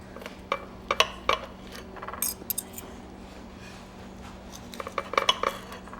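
Knife and fork clink and scrape against a plate while cutting poached rabbit saddle, with sharp metallic taps in scattered clusters, close and fairly clear over a quiet room.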